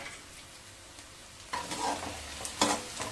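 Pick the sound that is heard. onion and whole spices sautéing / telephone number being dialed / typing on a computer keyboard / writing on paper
onion and whole spices sautéing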